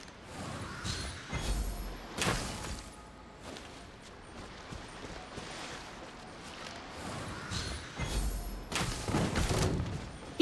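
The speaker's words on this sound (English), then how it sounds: "The explosion was roughly the size I expected." Explosions in Genshin Impact, several heavy booming thuds spaced through the stretch, with crackling rumble and clatter between them, at moderate level and without talk.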